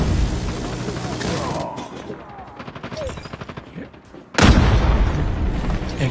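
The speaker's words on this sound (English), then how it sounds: "Someone put down in a sentry gun." Automatic sentry gun in Call of Duty Mobile pouring out rapid bursts of gunfire, loud and close, broken by a short lull before a heavy blast of fire resumes.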